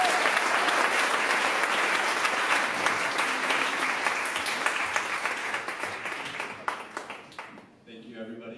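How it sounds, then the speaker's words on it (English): An event audience breaks into loud, dense applause for a speaker coming to the stage. The clapping holds steady for about seven seconds, then thins out and stops. "Can we give a big round of applause for Juan?"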